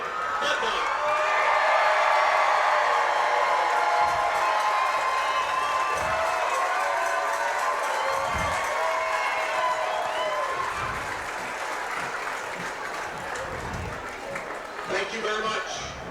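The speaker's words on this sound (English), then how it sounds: "please rise and turn towards the press box and let out a big cheer for Mars product, David Bednar." Crowd in the stands at a high school football game, Knoch versus Mars, cheers and applauds toward the press box, a broad sustained roar with scattered claps and whoops that slowly fades over about sixteen seconds.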